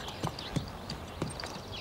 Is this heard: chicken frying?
no